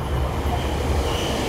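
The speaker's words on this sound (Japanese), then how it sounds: "ただいま到着の電車は各駅停車京都河原町行きです。" A local train arriving at Katsura station on the Kyoto line, its steady loud rumble of rolling wheels and railcars filling the platform without pause.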